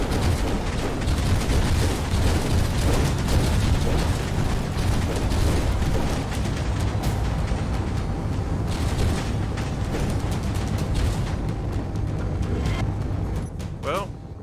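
Gunfire and explosions pound a ship in the Space Engineers game, a dense, loud, continuous rumble of booms and bursts that runs steadily throughout, with no pause.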